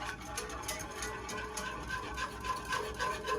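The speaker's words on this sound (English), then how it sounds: "So now I'm just going to whisk in this sour cream until it is lump-free and smooth." A whisk scrapes and swishes quietly in a continuous, slightly rhythmic rubbing as sour cream is beaten into a meatball gravy, with no talking.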